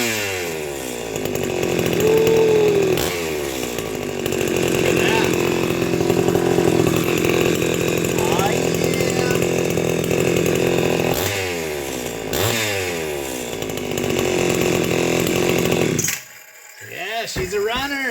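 Vintage Sears Craftsman chainsaw started with the compression release on, a few pull-start bursts before the engine catches and runs loud and steady, then stops abruptly, with a person talking over it.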